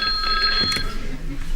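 A telephone bell rings in a brief trilling burst, bright and close, followed by a person speaking.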